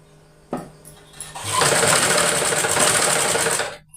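Sewing machine stitching a blouse hem with a firm stitch, starting with a couple of clicks and then running in a steady, loud, fast mechanical whir for about two seconds before stopping.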